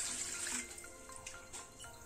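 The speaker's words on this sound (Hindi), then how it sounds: "दो गिलास पानी हम डाल देंगे" Water pours into a cooking pot set out for boiling mustard greens. A soft, bright splash at first eases into a faint, steady trickle and patter, quiet and without speech.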